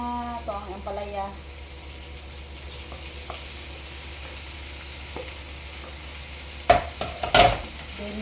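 Ampalaya cooking in a pan for a Filipino dish, a low steady sizzle with a short burst of speech early and a couple of louder clattering knocks near the end.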